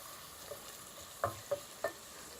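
Rice being stirred in a cooking pot to keep it from burning: three soft, quiet scrapes spaced about a third of a second apart near the end, over a faint background, with no voices.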